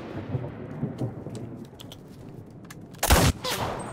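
A burst of gunfire in the game CRSED: F.O.A.D. cracks out loudly near the end, following a rumbling, low ambient wash of battle noise.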